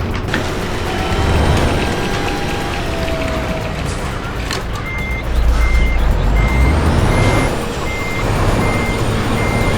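Truck with trailer reversing in Euro Truck Simulator 2, a loud continuous engine drone with steady periodic reversing beeps and a brief air-brake hiss midway.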